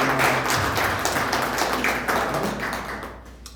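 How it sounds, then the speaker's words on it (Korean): Church congregation applauding in welcome, a dense, steady wash of many hands clapping that fades slightly toward the end, with no voices over it. "박수로 환영하시겠습니다"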